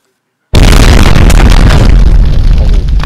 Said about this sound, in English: The whole mine exploded.